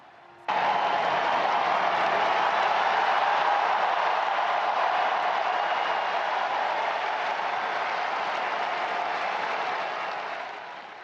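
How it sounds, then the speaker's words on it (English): Tens of thousands of people cheering and applauding the newly elected Pope Leo XIV, a dense, loud, sustained roar of distant crowd noise that starts suddenly and holds steady before easing slightly at the end. "he was greeted by tens of thousands of cheering people down below"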